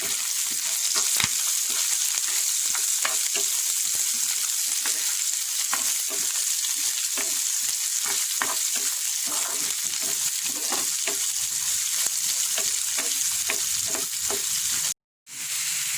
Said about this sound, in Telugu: కొంచెం కరివేపాకు, ఉల్లిపాయలు, పచ్చిమిరపకాయలు కొద్దిగా వేయించుకుందాం.